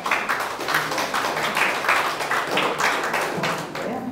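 Audience applause at a People Power Party event in Gangwon for party leader candidate Na Kyung-won: dense, steady clapping from a crowd that fills the whole stretch at an even level, with faint voices mixed underneath.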